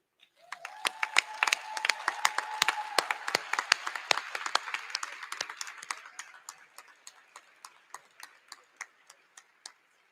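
At a university commencement ceremony, an audience claps for the graduates' families, scattered sharp claps building into a full round of applause that thins back out to isolated claps.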